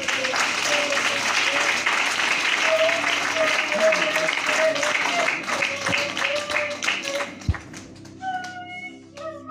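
A church congregation applauds during a sermon, steady dense clapping holding for several seconds, close and loud, with a sustained tonal sound running beneath and a brief voice near the end.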